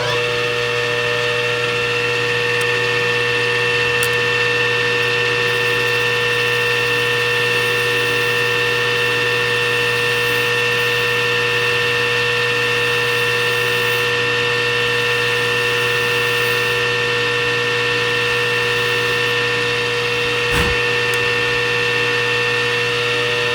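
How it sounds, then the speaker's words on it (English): A lathe runs steadily while cutting the rim of a trumpet mouthpiece, a constant loud whirring hum with a high whine that carries on without a break, close up, with one brief click near the end and no voices. "When I start at my lathe, the picture will shake because, you know, it's mounted to the lathe"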